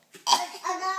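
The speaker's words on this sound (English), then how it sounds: "I'm coughing again." A young child gives a couple of short, sharp coughs, close and fairly quiet, followed by a brief vocal sound.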